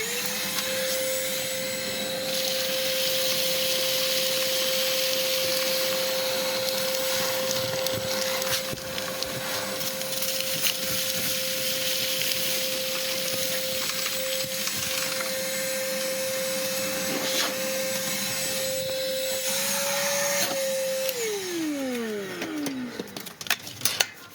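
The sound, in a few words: cordless vacuum cleaner running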